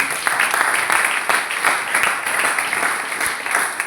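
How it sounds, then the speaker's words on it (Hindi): A crowd applauds continuously, a dense wash of many hands clapping at steady loudness throughout, with no pause. "हम चाहेंगे कि एक ताली बजाएं आप लोगों के नाम"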